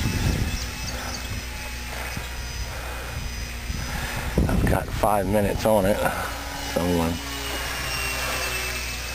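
A Nitroplanes 800mm P40 electric RC model airplane flies with a steady, high motor whine heard from a distance throughout, while someone talks briefly in the middle.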